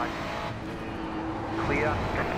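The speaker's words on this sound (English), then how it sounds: "Car on your left." A Ferrari 296 GT race car in the iRacing sim at Interlagos drawing alongside, its engine drone swelling and rising in pitch as it passes close by, under a speaking voice.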